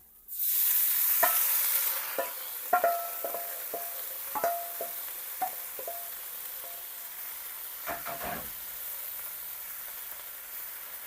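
Kangkong (water spinach) with whole garlic cloves hits a hot pan in a loud burst of sizzling that settles into a steady fry, with repeated sharp scrapes and clinks of a spatula stirring through it, alone without speech.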